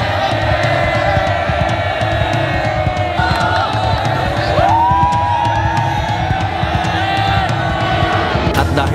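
Dense roar from a crowd of more than 15,000 spectators at a game in Zamboanga, loud and continuous with whoops and shouts rising above the din.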